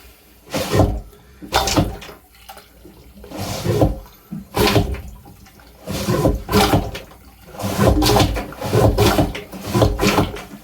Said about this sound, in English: You can hear water moving.